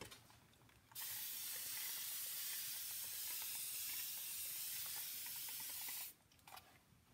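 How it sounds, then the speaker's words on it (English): Water is sprayed over a paint inlay on a jewelry box finished with DIY clay paint: a steady, close hiss of fine spray runs for about five seconds between quiet pauses, with no talking. "So what I'm going to do now is spray the whole thing."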